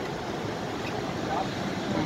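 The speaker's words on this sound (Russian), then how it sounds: "Вода здесь очень сильно так бурлит." Water churns and roars steadily at a waterfall in Switzerland, a dense, constant rushing wash with wind buffeting the microphone, while a voice talks faintly underneath.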